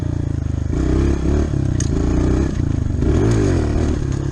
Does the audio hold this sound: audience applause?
no